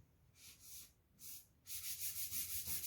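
Gesso is rubbed by hand onto a wood canvas, making soft, close scrubbing strokes, first in a few separate swipes and then in faster, steady back-and-forth rubbing, with no talking.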